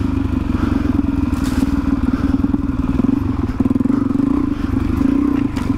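A Suzuki DRZ400E motorcycle set up for adventure riding is ridden off-road, its engine drone steady and close throughout, with clattering and thumps from the rough trail and no talking.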